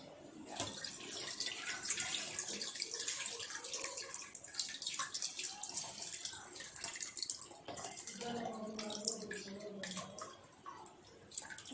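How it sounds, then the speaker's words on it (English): A netted container is dipped into a mixture of water and recycled paper pulp, giving sustained sloshing, splashing and dripping. It is fairly close and continuous over several seconds, with a few gurgles near the end. "I have taken a netted container and I'm going to dip into it."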